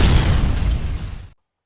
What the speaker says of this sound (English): until he heard and felt an explosion.